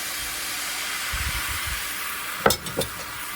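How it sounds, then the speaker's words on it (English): Crepe batter sizzles in a hot pan with a steady hiss, joined by a couple of brief louder scraping clatters near the end. "It's probably going to sizzle."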